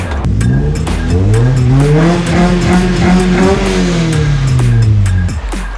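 A naturally aspirated Nissan S13 with an SR20DE engine fires up and revs loudly, the pitch climbing and then falling in a long steady roar close by.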